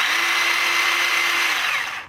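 A small portable electric chainsaw runs with a steady, high, whining motor hum, close and loud, that holds for about two seconds and then winds down abruptly.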